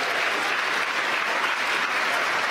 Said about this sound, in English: As you can hear from the crowd cheering downstairs, sounds like we've had a successful separation